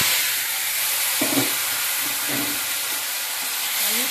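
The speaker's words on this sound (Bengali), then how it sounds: "হালকা পেঁপে সিদ্ধ, আলু সিদ্ধগুলো তেলের মধ্যে আমি ছেড়ে দিচ্ছি।" Boiled papaya and potato pieces go into hot oil seasoned with cumin, bay leaf and a dried chilli. A steady loud sizzle and hiss fills the clip, with a few faint low thuds and murmurs beneath it.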